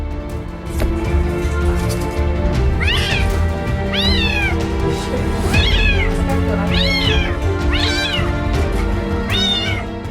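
A kitten stuck in a washing machine cries loudly and repeatedly, with high wavering meows every second or so over a steady background hum.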